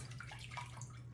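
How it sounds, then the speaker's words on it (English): Water from a can pours into a pot on a home kitchen counter, a soft splashing gurgle with a low steady hum underneath, faint and fairly close. "I'm just going to mix that can of water in here with"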